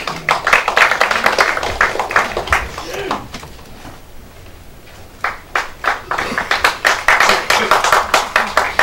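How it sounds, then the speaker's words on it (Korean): Lawmakers at a party caucus meeting to elect a floor leader clap in close, crisp bursts, a small group's rhythmic applause that fades to near silence midway before picking up strongly again. "박수로 맞이해 주십시오."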